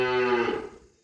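A young female buffalo calf gives one loud, close bellow, a drawn-out tonal moo that breaks and fades away within a second.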